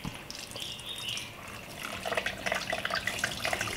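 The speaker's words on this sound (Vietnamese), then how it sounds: "Đây mình mổ bụng xong thì mình sẽ rửa sơ lại một lần nữa, rửa cái đầu nó nè" Cleaned razor clams are rinsed under a running tap in a kitchen sink, with a steady close rush of water broken by splashes and spattering as the shells are handled.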